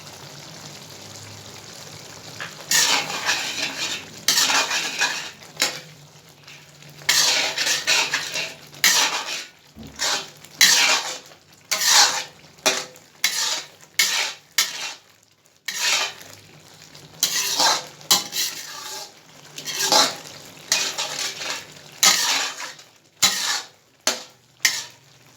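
Coriander seeds and cumin dry-roast in a pan, a crackly rattle under repeated loud scraping strokes of a spoon against the metal, coming in rhythmic bursts with short pauses throughout.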